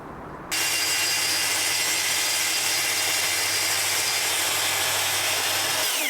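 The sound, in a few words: track saw cutting wood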